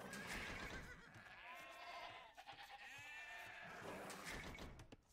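Sheep bleating in the Age of Empires video game: a few wavering bleats sound over a dense bed of game noise and music, moderately loud and close.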